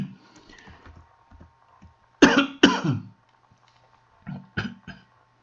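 A few sharp coughs close by, a pair of strong ones in the middle followed by two lighter coughs, with quiet pauses between.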